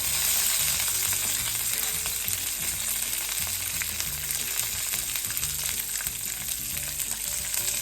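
Ginger and small onions frying in hot oil for a mint coriander chutney, giving a dense, steady crackling sizzle close by with faint stirring scrapes and a low hum underneath, no talking.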